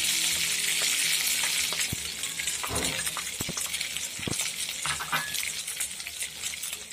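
Potatoes frying in a hot pan over spice tempering for an Indian potato and pea curry: a steady, loud, close sizzle runs throughout, broken by a few sharp stirring clicks, with no talking.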